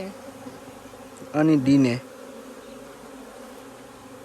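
Honeybees from a home-kept hive buzz steadily during honey harvest, a dense continuous drone close by, with a brief voice speaking in the middle.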